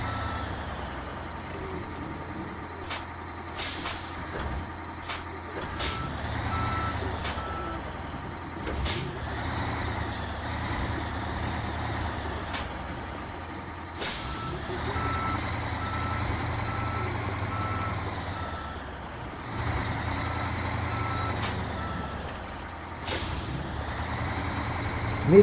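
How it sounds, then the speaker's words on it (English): A heavy truck in the Snowrunner video game slowly backs a trailer out of a fuel station, steady reversing beeps repeating over a low idling diesel engine, with sharp air-brake hisses breaking through now and then. "Tell me I'm gonna have to try to back this trailer out of the fuel station."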